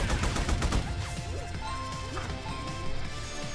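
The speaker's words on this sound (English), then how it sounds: "Rapid fire!" Rapid-fire gun shooting in the Rad Rodgers game on Xbox One, a fast run of close, punchy shots in the opening second, followed by layered game sound effects and chirpy tones.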